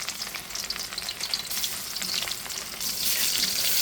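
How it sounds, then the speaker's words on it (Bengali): Tilapia pieces fry in hot oil in a wok, a steady crackling sizzle that swells louder partway through as more fish goes in, with no voices over it. "এখন আমি কড়াইতে তেল দিয়ে মাছটা ভেজে নিচ্ছি।"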